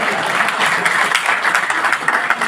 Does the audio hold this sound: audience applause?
yes